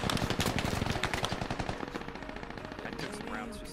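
Video game gunfire: a sustained rapid automatic burst of dense, loud shots that thins into a steadier, slightly quieter rattling stream.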